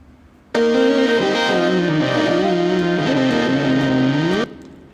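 A distorted electric guitar sustains chords and bends for several seconds, thickened by a dual-mono slapback delay with slightly different left and right times that widens the sound, then stops abruptly.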